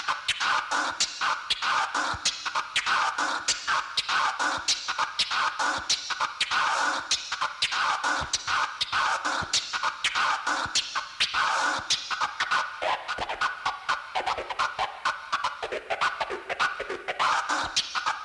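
Transform scratching played a cappella on a turntable: a rapid, choppy stream of gritty scratch sounds cut into fast stuttering bursts, dense and steady for the whole stretch.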